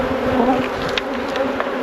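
Honey bees hum in a dense, steady buzz around a nuc frame of Welsh Black bees, close and continuous, with no talking.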